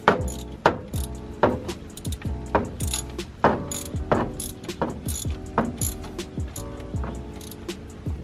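A new ignition coil goes into a 1968 Ford Mustang Fastback with a hand ratchet, giving repeated close, sharp clicking strokes in an uneven rhythm, roughly one burst every second, with no talking.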